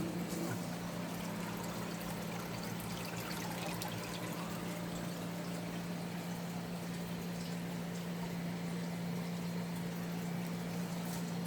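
Water pours and trickles steadily while plants are watered in a thriving pond garden, a continuous close splashing flow with a constant low hum underneath and no voices.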